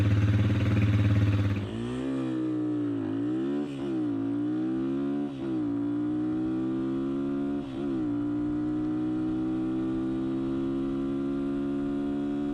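Honda XLR125R single-cylinder motorcycle with a PZ27 carburettor and foam air filter pulls away after a loud rumble. Its engine note climbs through several gear changes, each marked by a brief dip, then settles into a steady high drone.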